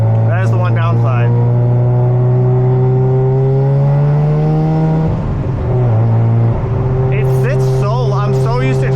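Mazda FD RX7 with a rotary engine driving, its steady, strong in-cabin drone holding a constant pitch, briefly breaking and dropping mid-way before settling back, with a voice talking over it at the start and end.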